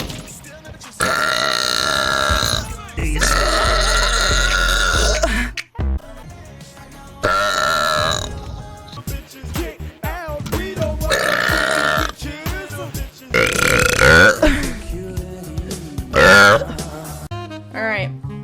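A woman lets out a series of long, loud, deep burps in close succession, some stretching several seconds, with brief talk and laughter between them.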